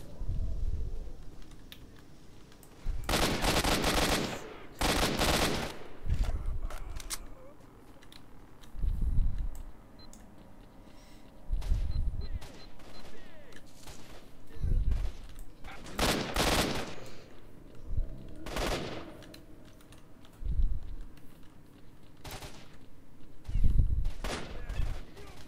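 Gunfire in the video game Stalker: Shadow of Chernobyl arrives as scattered loud bursts and single shots between quieter stretches, mixed with keyboard clatter.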